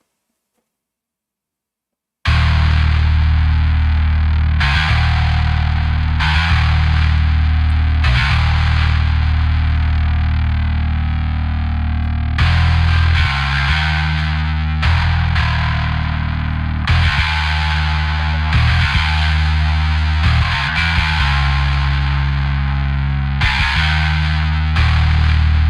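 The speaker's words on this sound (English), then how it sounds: "Here is the bass sound." A heavily distorted bass guitar with effects for a metal song demo, playing sustained, chugging notes with several abrupt stops and restarts, loud and alone after a short silent start.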